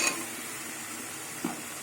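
Fried potatoes dropped into a pan of simmering spiced curry and stirred: a faint, low sizzle with a single soft clunk near the end.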